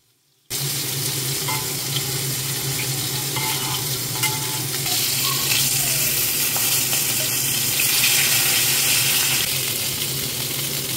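A piece of food fries in a home kitchen pan, a continuous close sizzle that starts abruptly after a brief silence and holds steady, with faint clinks and stirring throughout and no talking.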